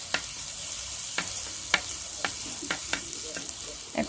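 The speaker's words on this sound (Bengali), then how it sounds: "এখন কাঁচা মশলাটা আমি সামান্য কিছুক্ষণ ভেজে এটাতে আমি গুঁড়া মশলাটা দিয়ে দিব।" Raw spices and cumin frying in a pan, a steady low sizzle broken by a regular series of sharp spoon scrapes and taps against the pan, close by with no speech.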